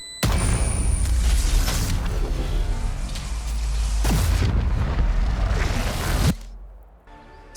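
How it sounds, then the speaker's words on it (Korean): The spike in the video game Valorant detonates in a massive, sustained roar of explosion noise that fills several seconds, swelling again midway before cutting off into a fading rumble. "그리고 이제 폭발하게 됩니다."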